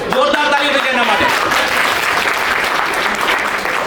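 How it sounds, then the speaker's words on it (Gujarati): Loud, sustained applause from a crowd at a community gathering during a Bhagwat Saptah event, clapping densely and evenly throughout, with a voice speaking briefly at the start. "જોરદાર તાળી થઈ એના માટે."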